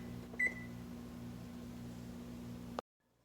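A single short electronic beep from an oven control panel as bake is set to 400, ringing out once over a steady low appliance hum before the sound cuts off abruptly.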